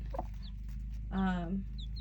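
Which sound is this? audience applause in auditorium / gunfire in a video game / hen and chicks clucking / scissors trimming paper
hen and chicks clucking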